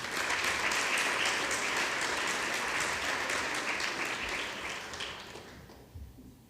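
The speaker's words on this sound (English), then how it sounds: "please offer a round of applause" Dense, sustained applause from a banquet crowd at a college softball all-conference awards event, loud and steady for several seconds before thinning out and fading toward the end.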